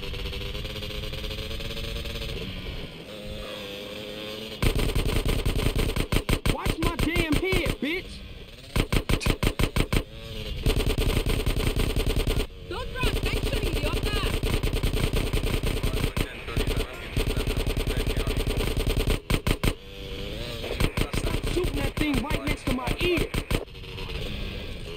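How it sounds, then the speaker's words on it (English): Rapid automatic gunfire in GTA San Andreas, aimed at enemies fleeing on ATVs, with long rattling bursts broken by short pauses over an engine hum and people talking throughout. "Well, shoot them then."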